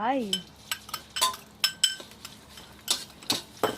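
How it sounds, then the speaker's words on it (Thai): Curry paste stir-fried in hot oil in a wok for a spicy frog stir-fry, with repeated scraping and clinking strokes of a spatula against the metal pan in an uneven rhythm, close and fairly crisp. "แล้วก็ผัดจนกว่าพริกแกงจะหอมนะครับ"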